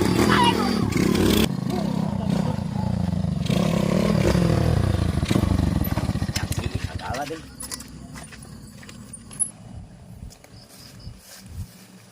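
A broken-down motorcycle engine chugs loudly and unevenly, then sputters, knocks and dies away into a quiet stretch broken by scattered clanks and rattles, with people talking throughout.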